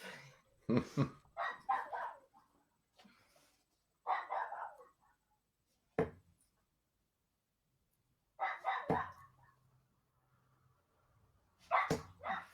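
A dog barks in sharp bursts close by inside a home, with several loud barks separated by silent gaps, alongside a person speaking.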